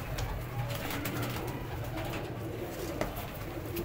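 Blue pigeons kept in a breeder's loft in Faisalabad cooing softly and repeatedly over a steady noisy background hum, fairly close.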